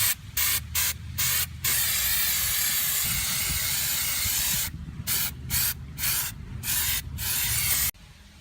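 Degreaser is sprayed onto a worn car clutch outdoors, a series of loud, close hissing spray bursts in quick pulses, then one long continuous spray, then more short bursts.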